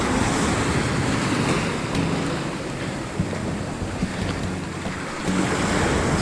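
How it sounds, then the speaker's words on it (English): Ocean surf washes onto the rocky beach at Grand Turk, a loud steady roar of breaking waves mixed with heavy wind buffeting the microphone throughout. "Keep out of the waves."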